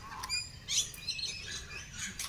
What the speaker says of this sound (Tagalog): Ang lalaki ng ibon. Yun, parang tagak, pero malalaki.